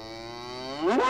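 A cow mooing once in a British stage play: a single drawn-out, harmonically rich low moo that rises and swells in loudness toward the end, close and alone.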